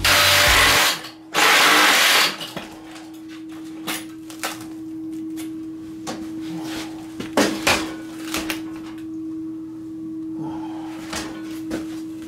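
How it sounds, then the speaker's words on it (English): A power drill whines loudly in two short bursts as it bores a starter hole in stainless steel, then gives way to a steady hum and scattered clicks and knocks of handling. "Try to make a starter hole here with this drill bit."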